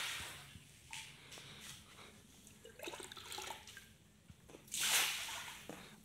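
Lime solution poured from a container into a garden fish pond, a few wet splashing pours with a louder gush near the end, close by and with no talk.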